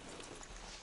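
A horse's hooves clop faintly at a walk in Red Dead Redemption 2, a brief soft patter of steps with no talk.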